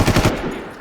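Rapid automatic gunfire in the Far Cry 3 video game, a loud, close burst of quick rattling shots lasting under a second before fading into a short tail.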